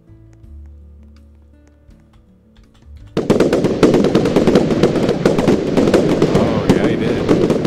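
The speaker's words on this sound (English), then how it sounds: "Did somebody set off fireworks right there?" Fireworks go off in the Roblox game Lumber Tycoon 2 after a quiet stretch, a sudden loud run of crackling bursts and pops that keeps going to the end.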